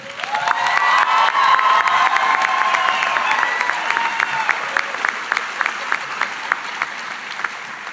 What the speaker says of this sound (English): Please join me and give a round of applause for the countless efforts for our faculty and staff.